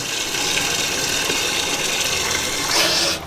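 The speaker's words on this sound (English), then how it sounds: "So the complete flushing cycle is done." Water rushing through a hose while a water heater is flushed, a steady, close gushing hiss that swells briefly near the end, with no voices.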